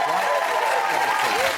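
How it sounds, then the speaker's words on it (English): The studio audience of The Jeremy Kyle Show claps in a brief, dense burst of applause lasting under two seconds, moderately loud and even throughout. "give him a round of applause"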